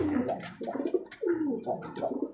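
Domestic pigeons, including a nesting yellow pair in a Rajshahi home loft, coo in a steady run of close, soft, repeated rolling calls, with no voices over them.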